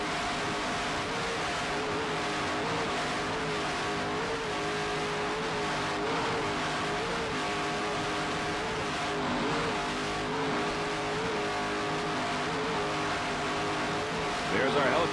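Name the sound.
offshore racing powerboat engines, twin 900-horsepower engines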